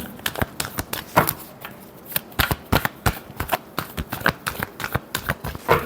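A deck of tarot cards shuffled by hand in a run of quick, crisp riffles and flicks, the bursts falling in an uneven rhythm, close up and fairly loud with no talking.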